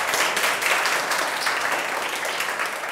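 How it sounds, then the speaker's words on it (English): A classroom of children claps steadily for a student after a grammar lesson, a dense, even burst of applause that holds for a few seconds with no talking over it. "Clap for her."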